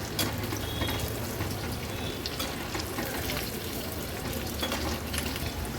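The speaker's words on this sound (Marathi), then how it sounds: "आता अगदी अर्ध्या मिनिटासाठी हे आपण फ्राय केलेले प्रॉन्स डबल फ्राय करणार आहोत." Prawns sizzle in hot oil over a high flame during a second frying for crisp Koliwada-style prawns, a dense, steady crackle and hiss running loud and unbroken from start to finish.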